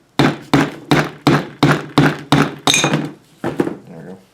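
Metal hammering on a rusty bushing being driven back into an Exmark/Toro steering pump: about eight sharp, evenly spaced strikes in a steady rhythm, then a pause and a weaker final tap.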